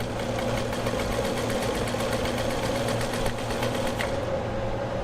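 A Brother Coronado Duchess sewing machine stitching continuously, with a loud, close, steady mechanical whir and fast rhythmic needle ticking that holds unbroken throughout.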